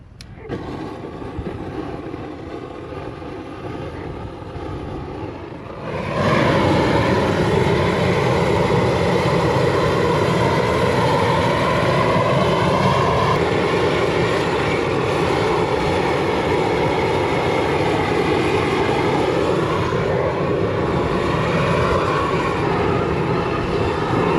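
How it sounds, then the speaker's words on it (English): Strong wind blows outdoors in a constant roaring rush that surges sharply louder after a few seconds and stays heavy and steady, with no voices. "The wind, it slows down the process. It's so strong"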